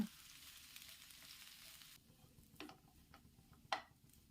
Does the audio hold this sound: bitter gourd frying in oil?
yes